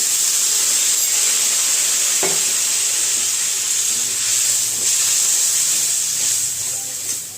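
Water poured into a pan of sizzling spice masala for a Hilsa fish and gathi kochu curry sets off a loud, steady steamy hiss and sizzle that holds throughout, close up, with no voices.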